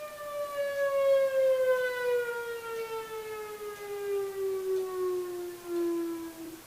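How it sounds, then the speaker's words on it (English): A tornado warning siren wails from a distance, one long tone slowly sliding downward in pitch, steady and clear with no voices. "our tornado sirens go off every Wednesday at 1 o'clock"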